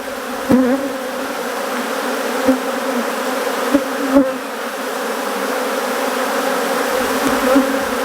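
Africanized honeybees buzz steadily around an opened hive frame, a dense, continuous close drone with a few soft knocks and handling bumps.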